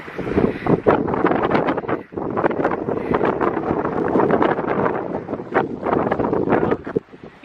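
Strong wind buffets the microphone in a steady roar for several seconds on Mackworth Island, with only a brief lull partway through.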